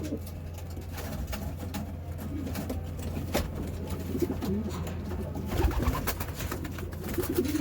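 Racing pigeons cooing steadily inside a loft, soft repeated coos over a constant low hum, with faint rustling and shuffling close by.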